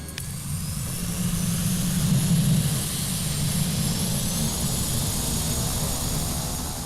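A Carenado Cessna 208B Caravan turboprop engine in a flight simulator spools up during start, a steady low roar with a thin high whine rising and holding over several seconds.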